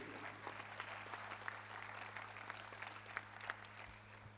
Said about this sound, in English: please give a big clap, Swamiji, again